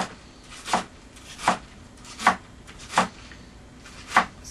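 Knife slicing through quartered Napa cabbage on a cutting board, with six crisp, evenly spaced chops at a steady rhythm, close and clear with no talking.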